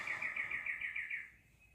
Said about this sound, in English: Birds are loud out here.